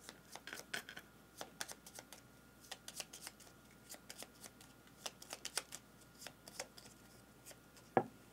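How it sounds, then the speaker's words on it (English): Card decks for the board game Ground Floor being shuffled by hand: a long run of quick riffling, flicking card noises, close and fairly quiet, with no talking. "Now we do have to shuffle their decks again"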